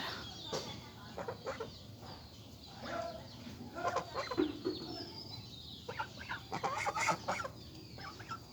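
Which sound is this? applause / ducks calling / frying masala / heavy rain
ducks calling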